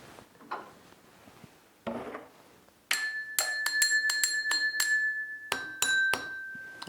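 Two bowls are struck in quick succession, each tap ringing out with a bright, glassy tone; a few muffled knocks come first.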